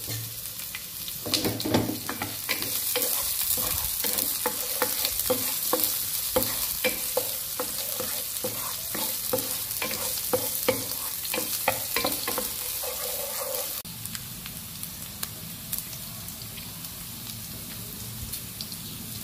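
Garlic, onion and ginger sautéing in a pan for a Filipino dish, a steady bright sizzle with repeated stirring scrapes over about twenty seconds, the frying tone thinning near the end.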